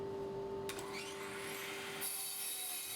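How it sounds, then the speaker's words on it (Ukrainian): A miter saw hooked up to dust extraction makes a test cut through wood, with a steady motor whine throughout and a sharp burst of the blade biting in partway, followed by a brighter hiss near the end. "Зараз вона вже підключена до аспірації і можна зробити контрольне пропилювання."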